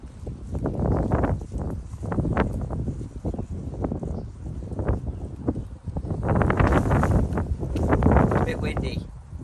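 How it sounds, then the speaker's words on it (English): Gusty wind buffets the microphone outdoors beside a freshly cleaned car in loud, uneven rumbling surges that rise and fall throughout. "It's a bit windy."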